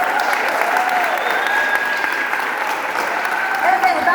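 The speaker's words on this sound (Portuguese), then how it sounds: "Vamos aplaudir o Senhor Jesus." Steady applause from a church congregation, a continuous wash of clapping lasting a few seconds with no break.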